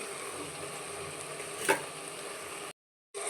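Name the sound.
stirring soaked rice into tempering in a pan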